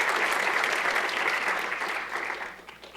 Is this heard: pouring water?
no